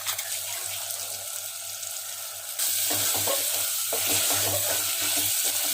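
Crab pieces sizzle and fry in a hot pan for Tamil-style crab curry with chilli powder and fennel powder, a steady crackle that grows louder midway as stirring begins, with scraping and clinks of the spoon against the pan.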